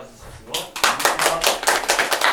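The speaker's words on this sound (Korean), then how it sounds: "박수로 맞아주시죠." An audience at a local history concert-lecture breaks into applause to welcome the lecturer, starting after a brief quiet moment and swelling into a loud run of fairly rhythmic, close clapping that pulses steadily until the end.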